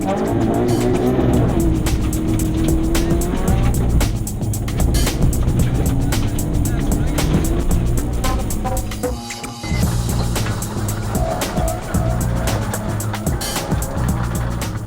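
A Group N Subaru Impreza rally car tears along a special stage at the Fujairah Rally, its engine revving hard and loud with gear-change dips and occasional tyre noise throughout.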